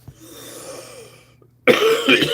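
Quiet breathing and faint rustling, then a sudden loud, harsh cough bursts out close by near the end.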